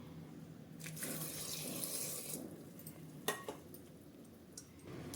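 A bowl of water poured from a tap into a pressure cooker of chana dal and bottle gourd: a close, hissing splash for a couple of seconds, then softer trickles and a clink of a vessel.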